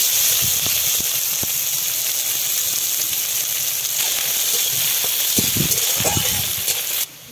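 Chopped onion frying in hot mustard oil with dried chilli, cinnamon, cardamom, cloves and a bay leaf. A steady, loud hiss and sizzle lasts throughout, broken by a few soft clinks and a voice in the background.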